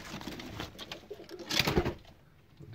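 A pigeon coos in a coop, soft throaty calls rising to a louder burst midway, close by amid light rustling.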